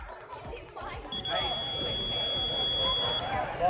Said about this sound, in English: that loud beep you just heard was our timers just checking that our timing equipment is functioning